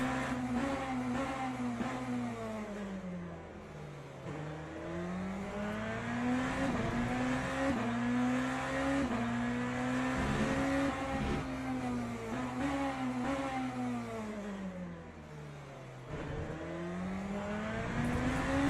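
A McLaren race car engine in a racing video game drones steadily for the whole stretch, its pitch climbing and dipping through repeated gear changes as it accelerates and brakes, loud and continuous with no talk.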